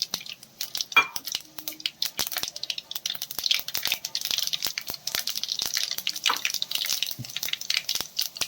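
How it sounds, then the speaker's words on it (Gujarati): Mustard seeds and cumin crackle and pop in hot oil for upma tempering: dense, steady sputtering with sharp clicks throughout, close and fairly loud, with no voices. "રાઈ જીરું સરસ તતરી ગયા છે"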